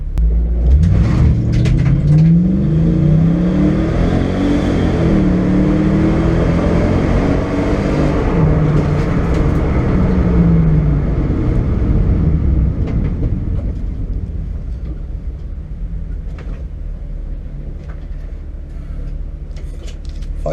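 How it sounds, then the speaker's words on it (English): Mercedes CLK 430 with a stripped interior accelerating hard in a timed run: a loud, continuous engine roar with rising pitch sweeps through the gears, easing slightly toward the end, with no talking. "Right then, run number 1 with the new stripped interior."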